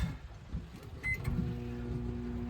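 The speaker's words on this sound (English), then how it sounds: "there we go, the microwave's on." A few quiet clicks and a beep, then a low, steady electrical hum as a microwave oven on a sailboat switches on, powered through an inverter, and keeps running.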